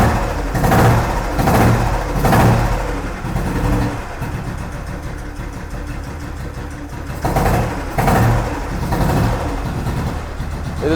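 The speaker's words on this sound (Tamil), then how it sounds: "ஸோ இதான் இன்ஜின் நோட். இன்ஜின் ரொம்ப சூப்பராக இருக்குது." A Royal Enfield motorcycle engine idles with a steady mid-pitched rumble, broken by several short throttle revs that rise and fall.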